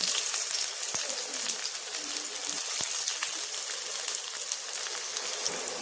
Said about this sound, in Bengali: দিয়ে পেঁয়াজ কাটাগুলো দিয়ে দেবো।